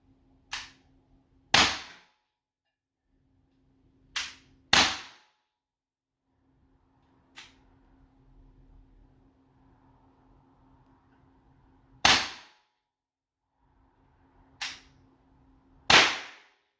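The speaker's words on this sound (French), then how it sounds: "Donc on va tirer le barillet au complet." Six explosive slugs fired from an Umarex T4E HDR50 revolver, each a sharp loud crack heard in pairs of a click and a sharper bang, spaced irregularly over quiet outdoor background.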